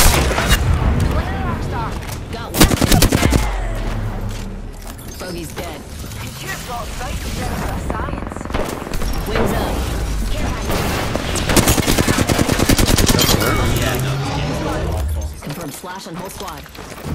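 Gunfire in the battle-royale game Apex Legends, with bursts of shots and booms mixed with game effects running through the whole stretch, while players talk over the action.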